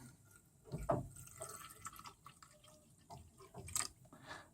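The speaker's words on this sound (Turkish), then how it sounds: "Oksijen sensörü gömülene kadar üstüne döküyorum." Dish detergent liquid is poured over an oxygen sensor, giving a faint, soft liquid trickle with a few dripping splashes nearby.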